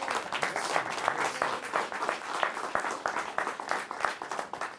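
An audience applauds a guitarist at a live show, the dense clapping steady and full throughout, with a few louder claps standing out near the front.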